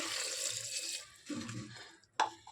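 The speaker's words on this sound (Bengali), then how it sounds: "এক কাপ জল দিয়ে দেবো" Water poured from a cup over soaked chickpeas and two potatoes in a cooking pot, a close, steady splashing stream that breaks off partway, resumes more softly, then ends with a brief sharp splash.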